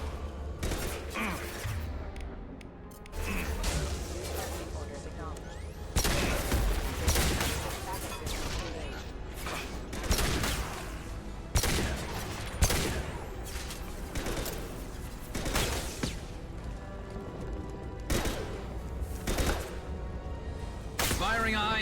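Repeated heavy gunfire in Mass Effect 2 combat, a dense sequence of loud, sharp high-impact shots and booming impacts spread across twenty seconds, with a voice talking intermittently amid the firefight.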